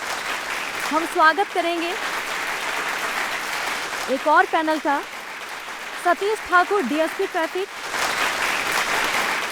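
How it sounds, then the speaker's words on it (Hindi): Audience applause at a road safety awareness event: bursts of clapping at the start and end, with someone talking into a microphone in between. "एक बार फिर से तेज तालियों के साथ"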